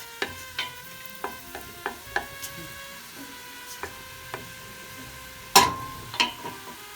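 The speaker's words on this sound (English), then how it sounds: "We're just going to saute that a bit." Chopped onion sautéing in olive oil in a pan, a soft steady sizzle under scattered light clicks and scrapes of a utensil stirring, with one louder clatter near the end.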